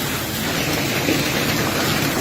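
Hail pounds a fibre roof in a Punjab storm, a brief stretch of loud, continuous clattering hiss close overhead, steady in level and free of speech.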